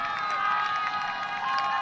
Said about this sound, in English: The crowd's happy with that